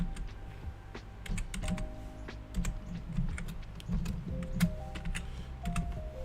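Rapid clicking keystrokes on a computer keyboard, an irregular, fairly quiet patter of taps with light background music underneath.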